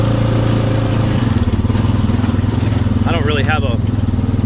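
A 2016 Honda Rancher ATV engine chugs steadily with a low, pulsing drone as it drives through light mud on a trail. Someone speaks briefly over the engine.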